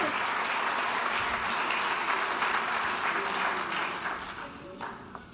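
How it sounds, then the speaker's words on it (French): Applause from an audience at a French political party congress fills the room with dense, steady clapping that tapers off toward the end. "Vous pouvez les applaudir."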